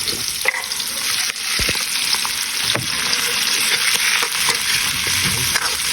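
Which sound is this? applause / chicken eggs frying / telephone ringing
chicken eggs frying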